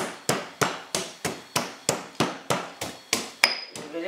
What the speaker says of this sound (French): Je vais juste mettre mon ginseng là que je vais piler comme ça.